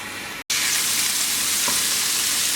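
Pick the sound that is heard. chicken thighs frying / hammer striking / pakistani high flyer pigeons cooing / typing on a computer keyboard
chicken thighs frying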